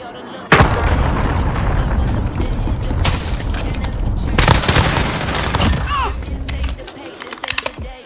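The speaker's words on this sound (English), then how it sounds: "Allied cruise missile on the way." Cruise missile strike explosions in Call of Duty Search and Destroy: a loud, dense barrage of booms and blasts erupts suddenly and rolls on for several seconds, with a second heavy burst midway before fading.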